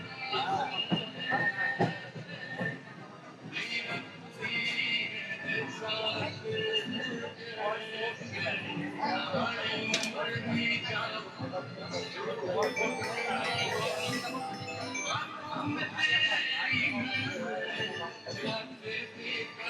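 The Saraighat Express rumbles and rattles as it rolls into New Cooch Behar station, with a steady, busy clatter of the carriages and voices talking over it throughout.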